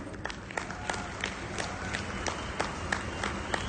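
Scattered clapping from a seminar audience, uneven individual claps repeating at a quick irregular pace, fairly faint and thin rather than a full ovation.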